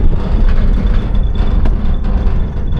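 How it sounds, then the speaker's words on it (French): Tractor working a field during irrigation, a loud, steady low engine rumble with some broadband rattle throughout and no talk over it. "C'est le tracteur de la mort qui sème la mort dans le champ."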